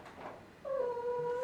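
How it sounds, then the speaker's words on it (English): A pet cat lets out a single clear, drawn-out meow indoors, close and fairly quiet, following a soft brief sound. "That's my cat just meowing."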